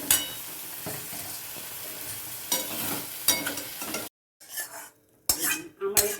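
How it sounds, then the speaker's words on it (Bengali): A utensil stirs chichinga posto, snake gourd with poppy seed paste, in a sizzling pan, giving close clinks and scrapes over steady frying, then brief pauses and a few final knocks as the pan is taken off. "এই যে এবার নাড়াচাড়া করে আমি নামিয়ে নিচ্ছি"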